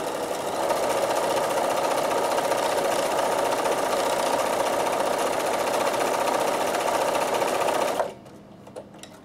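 A Bernina sewing machine stitches steadily and loudly for about eight seconds, a continuous whirring motor hum with a rapid needle rhythm, then stops abruptly, leaving faint clicks and near silence.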